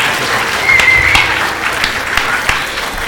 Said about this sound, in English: I think that deserved another round of applause